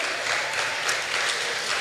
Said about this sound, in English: May I clap them as they come?